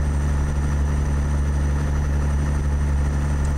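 A Caterpillar 3406 diesel truck engine idles in American Truck Simulator, a steady, loud, low rumble with constant harmonics running throughout, close and without any talk.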